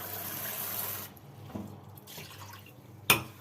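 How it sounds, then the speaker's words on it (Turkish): A kitchen tap runs in the first second, a steady broadband water rush that cuts off abruptly, followed by a few faint drips and a sharp clink near the end. "Şöyle musluktan su alacağım."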